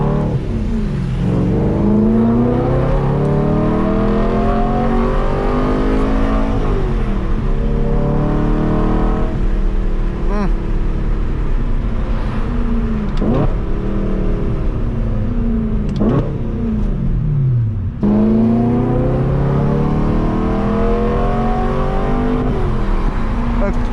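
A BMW E92 M3 V8 held in 2nd gear on light throttle climbs through its rev range again and again, each rising engine howl sweeping up and then dropping back, loud and close.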